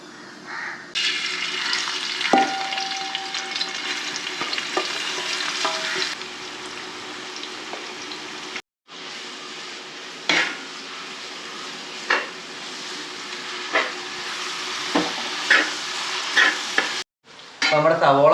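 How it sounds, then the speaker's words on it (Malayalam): Onions sauté and sizzle in a pan for a beef roast, a steady close frying hiss with occasional stirring scrapes and brief clinks, broken by two short pauses. "സവോള വാട്ടി തുടങ്ങാം."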